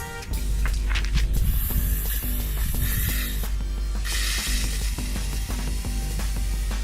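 A homemade wrist-mounted web shooter sprays web fluid in hissing bursts, a loud spray in the first few seconds followed by more sputtering hiss as the fluid runs out, with no talking.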